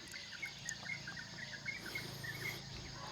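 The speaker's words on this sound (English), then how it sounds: "Birds are chirping, talking to each other." Small birds chirp in the countryside on a quiet morning, short repeated tweets scattered over a constant insect-like hiss, fairly distant and soft.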